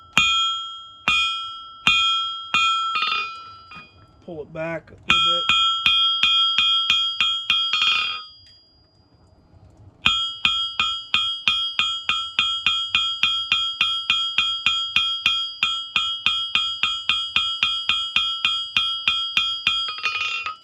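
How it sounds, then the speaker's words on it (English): Rapid metallic blows of a rounding hammer forging hot metal into a leaf ring out on an anvil in a steady, bright rhythm, pausing briefly, with a short spoken remark partway through. "I use the rounding portion of my hammer."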